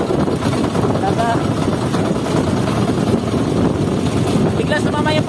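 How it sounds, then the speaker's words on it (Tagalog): Strong wind in worsening weather out on the open sea batters a boat, roaring as a steady loud rumble across the microphone, with an engine-like drone and a voice briefly heard beneath. "Ang lakas ng hangin."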